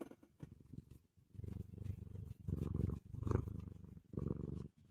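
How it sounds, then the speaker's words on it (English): A pet cat purrs steadily and close by, a low rumbling pulse rising and falling with each breath in several long, loud bursts, with no voices over it. "Happiness is a purring kitty."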